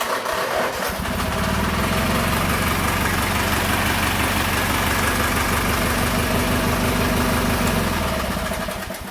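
A Sears Suburban garden tractor engine cranks and catches, then runs at a steady, loud, close idle with a fast even chug that holds until it slows near the end, with no talking.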